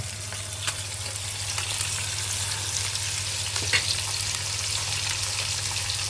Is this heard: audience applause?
no